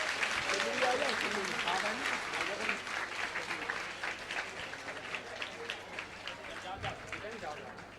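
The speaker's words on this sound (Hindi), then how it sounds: "दोनों हाथ ऊपर उठा करके जोरदार तालियों का महोत्सव आप सभी लोग करें" A large audience applauding loudly with both hands raised at a religious discourse gathering: a dense, sustained roar of clapping that stays strong across the whole stretch and eases slightly toward the end.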